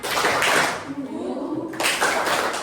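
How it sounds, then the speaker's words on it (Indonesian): A class of sixth-grade pupils performs a rhythmic spirit clap, a burst of quick group claps near and fairly loud, broken by a short pause and then resuming, with children's voices mixed in. "Tepuk semangat"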